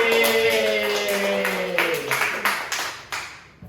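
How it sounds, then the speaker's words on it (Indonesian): Clapping in a classroom during a microteaching session, a short burst of hand claps that thins out to a few scattered claps near the end, mixed with overlapping voices. "Mari kita beri apresiasi kepada diri kita sendiri dengan memberikan tepuk tangan."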